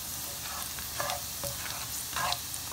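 Garlic fries golden in a pan with turmeric, crushed chillies and salt, a quiet soft sizzle broken by several scraping stirs of a spoon.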